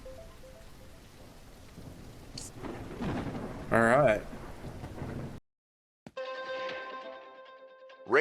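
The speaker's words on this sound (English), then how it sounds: "Rain update. Still raining." Steady rain with rumbling thunder builds to a heavy, loud wash, then cuts off abruptly for about a second before the downpour resumes. A voice speaks briefly over the rain.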